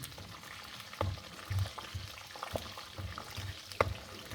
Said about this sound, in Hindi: मेरे पास ड्राई फ्रूट्स हैं, मिक्स ड्राई फ्रूट्स हैं ये। इन सबको रोस्ट कर लेते हैं।